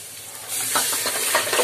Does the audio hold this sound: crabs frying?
yes